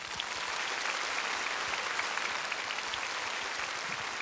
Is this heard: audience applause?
yes